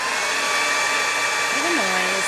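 A hair dryer drying paint on a chalk craft project blows steadily at close range with a constant high whine and airy rush; a brief voice-like tone rises near the end.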